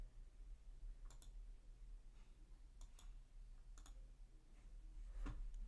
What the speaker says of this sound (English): now if I click sign up